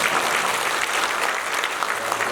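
Audience applause at a district office's first-year achievements and vision presentation in Daejeon, a steady dense clapping filling the whole moment at close range with no talk over it.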